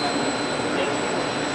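A power plant exciter generator on a 13,800 generator unit, running with a loud, steady, dense hum and whine, close by and unchanging, alone.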